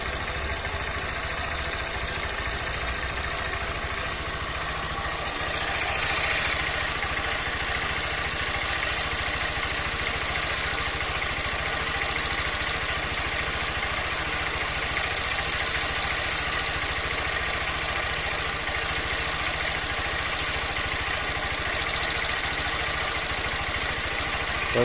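A 160 cc motorcycle engine idles steadily after a home repair, a continuous close mechanical hum with a faint metallic tick running alone through the clip.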